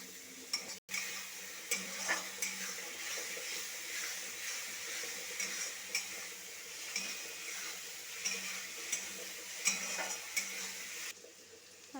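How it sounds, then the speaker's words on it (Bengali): Spice masala of turmeric, coriander and cumin powder is stirred in a pan for chicken kosha, a soft continuous sizzle under faint, irregular scraping of a spatula. "মশলাটাকে ভালোভাবে মিশিয়ে নেব"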